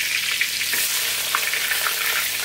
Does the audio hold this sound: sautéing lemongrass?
yes